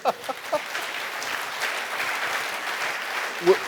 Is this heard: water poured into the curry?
no